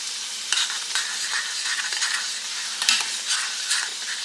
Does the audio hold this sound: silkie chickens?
no